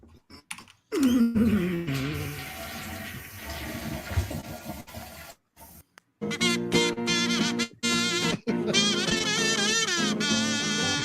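A comedic toilet flush sound effect plays, a quick swirling rush of water at the start, followed by choppy bursts of music.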